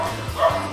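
A dog barks once or twice in short yips, close by, against a murky background with faint voices.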